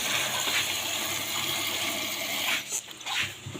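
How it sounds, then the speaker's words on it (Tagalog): Water rushes and splashes steadily into a cooking pot for boiling bananas, a continuous gushing pour that briefly breaks off near the end before resuming. "Lagyan ng tubig."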